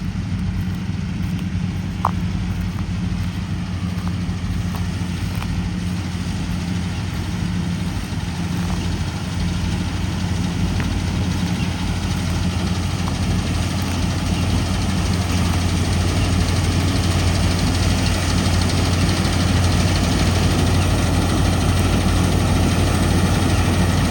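A tractor-powered straw machine working on a farm in power mode while filling a trolley with straw: a loud, steady, low engine drone that runs unbroken throughout, with no voices.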